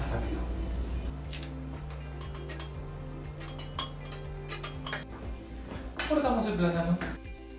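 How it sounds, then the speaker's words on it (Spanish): A knife dices avocado into small cubes on a board for a chocolate avocado mousse, giving repeated light clicks and taps along with some dish clatter while a person talks. "Cortamos la palta, la cortamos en daditos para hacer el trabajo de la licuadora mucho más rápido."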